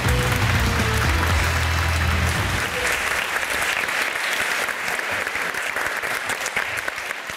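A studio audience on the Turkish game show Cevap Ver Türkiye bursts into loud, sustained applause, with tonal music sounding underneath for the first couple of seconds before the clapping carries on alone.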